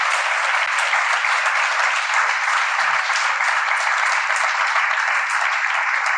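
An audience at a public hearing on extreme weather claps steadily and loudly, a dense wash of applause that holds without letup from start to end.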